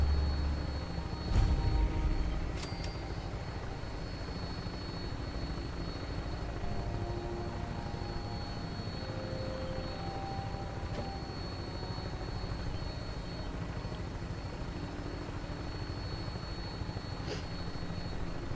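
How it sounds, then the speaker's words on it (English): A steady, fairly faint aircraft engine drone hums through a flight in the video game Fallout 4, even and unbroken with no voices over it. "Oh, talk about a long bloody trip in a plane."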